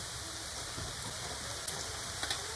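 Chopped beans and carrots go into chicken frying in a pan, giving a faint, steady sizzle with soft stirring and a couple of small clicks, heard alone without talk.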